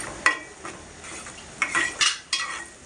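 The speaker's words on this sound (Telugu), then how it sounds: "ఉల్లిపాయలు వేగించుకుందాం" Onions frying in a pan are stirred, giving a soft sizzle under several sharp metallic scrapes and clinks of the utensil against the pan, spaced irregularly and fairly quiet.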